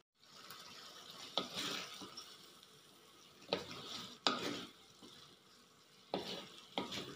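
Petai beans are stirred into shrimp balado in a pan. Spoon strokes scrape and clatter in separate bursts over a low, steady sizzle, close and fairly quiet.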